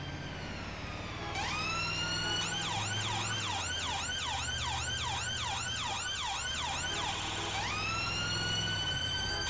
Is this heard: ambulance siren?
yes